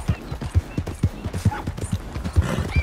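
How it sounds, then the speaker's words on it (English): Horse hooves pound in a rapid, rhythmic gallop in the Red Dead Redemption 2 video game, loud and close, with faint game ambience and a brief whinny-like tone in the background. "Ride, Arthur."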